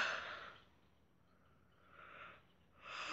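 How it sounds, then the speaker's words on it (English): Breathy airy exhalations, a long drawn-out breath at the start, a softer one in the middle and another rising at the end, faint and close with no talk. "Oh, man, I'm yawning a lot."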